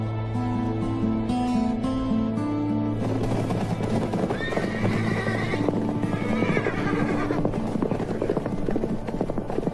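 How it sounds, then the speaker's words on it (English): Horses whinny and hooves clop in the desert while a low droning rumble runs steadily underneath, with a few sharp neighs rising above the din midway through. "they leave the horses in the shade"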